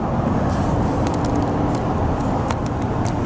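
Steady interior rumble of a car driving along a road, constant road noise with faint occasional ticks, no talking.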